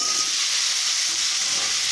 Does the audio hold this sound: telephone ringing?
no